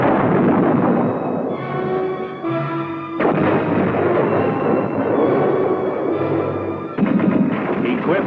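An M60 Patton tank fires its 105mm cannon, with heavy booming blasts and rumbling over a dense, continuous battle din, loud and close with no voices.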